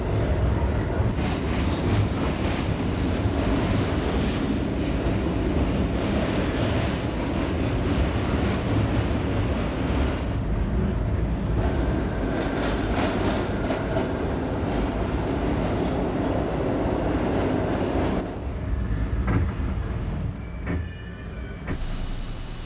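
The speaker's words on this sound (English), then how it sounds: "This is a West Street bound F train." An R32 subway car on the F line runs along the rails with a loud, steady rumble and rattling clickety-clack that carries on without a break, nearby and enveloping.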